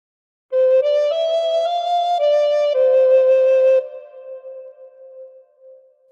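A recorder plays a short phrase of The Star Spangled Banner, a string of clear sustained notes, close and alone, with the last note fading into silence.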